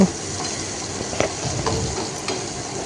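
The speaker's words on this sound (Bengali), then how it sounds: "এবার আমি এর ভেতরে দিয়ে দিচ্ছি চিংড়ি মাছগুলো। খুব হালকা করে চিংড়ি মাছগুলোকে ভেজে নেব।" Shrimp sizzle and fry in hot mustard oil in a pan, a steady crackling hiss with small pops, close and fairly loud throughout.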